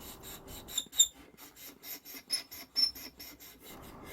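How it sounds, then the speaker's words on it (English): A cleaning cloth wipes a violin's body and strings in rhythmic rubbing strokes, close and dry, repeating in quick back-and-forth bursts with faint squeaky highs, alone without any voices. "wiping the body and string with a cleaning cloth"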